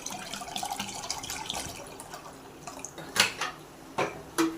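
Water runs and splashes into a metal pressure cooker, with a few louder pouring bursts toward the end; close and moderately quiet.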